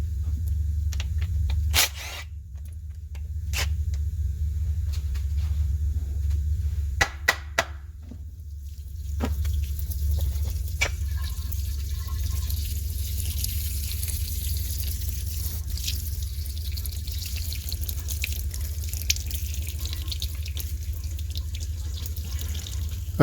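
Transmission fluid drains steadily from a removed transmission pan, a continuous liquid trickle with a low background hum, punctuated early by a few sharp clicks and knocks, with no talking.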